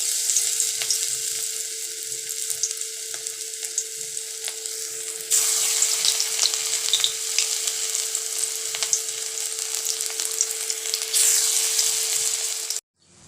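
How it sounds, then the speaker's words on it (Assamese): Steady, loud sizzling of cabbage-onion pakoras frying in hot oil, a continuous crackling hiss with small pops throughout, close up and without talk. "তেলখিনি গৰম হৈ গৈছে এতিয়া মই এতে সৰু সৰু পাতলকে মই পকৰা কেইটা দি লম"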